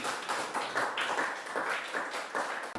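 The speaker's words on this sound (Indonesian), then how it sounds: "Tepuk tangan dulu buat mereka" A classroom audience applauding a student group after their presentation, a brief burst of dense, close clapping that holds steady for a few seconds and then cuts off.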